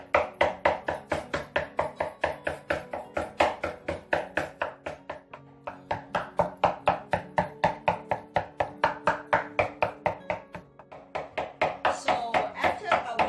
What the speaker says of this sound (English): So after a while chopping all the meat